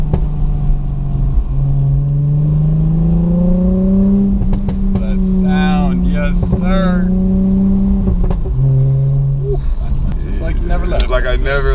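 Mercedes C300 engine revving through a downshift, its pitch climbing and falling in smooth sweeps with a brief dip and recovery, loud and close inside the car while people talk over it.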